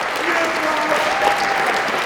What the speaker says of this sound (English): can we say thank you to your previous speakers? Round of applause